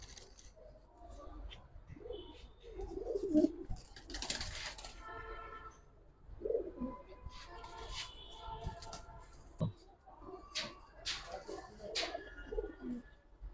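Giribaz and coloring pigeons in a loft coo softly in short, irregular bursts, mixed with wing flutters and small shuffling noises, at close range and fairly quiet.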